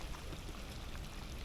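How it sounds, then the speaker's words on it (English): Water pouring steadily out of a small drain beside a freshwater fishing spot in Fukuoka, Japan, a continuous close splashing rush with no pauses. "It drains out. You can see all the water coming out."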